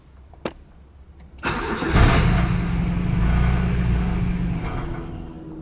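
A Honda Civic being built toward a turbo setup cranks and catches, then settles into a loud, close, uneven idle that sounds rough and unsteady, with no talk over it.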